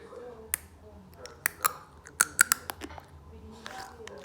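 Neck cracking by a person, heard as a scattering of sharp, dry pops and clicks, single and in quick pairs, close and fairly quiet against a soft background.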